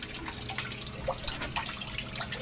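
Water rushes steadily into a basement sump pit during a sump pump replacement, a continuous close splashing churn with faint drips and gurgles and no talk.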